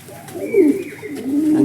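A pigeon about eight years old, just released and now perched, gives a soft, low throaty coo that swells and falls twice, close by and alone.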